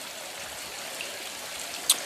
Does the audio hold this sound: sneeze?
no